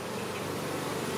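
Honeybees swarm and buzz around an active hive, a dense, continuous droning hum that fills the air close by without a break.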